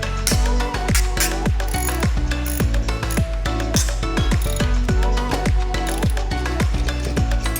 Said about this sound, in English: but you'll need a socket set for that